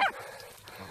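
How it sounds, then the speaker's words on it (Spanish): Andalusian podenco hunting dogs are out on a hunt: one short, sharp yelp or bark opens, then quieter whimpering and rustling carries on at a moderate distance. "¡Hay perros buenos!"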